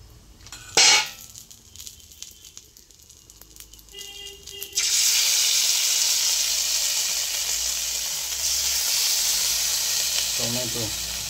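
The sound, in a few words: red chilli added to a sizzling pan for chilli chicken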